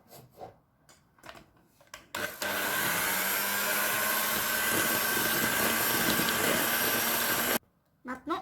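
A loud electric mixer whirs steadily for about five seconds as it beats cupcake batter with milk added, framed by brief speech before and after the motor runs.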